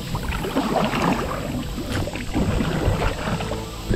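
A kayak paddled on the Harpeth River gives a close, continuous wash of splashing and churning water, with irregular paddle strokes and some wind buffeting the microphone.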